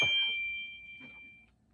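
A phone notification sounds as a single clear high ding that rings out steadily for over a second before fading, alone in a quiet room.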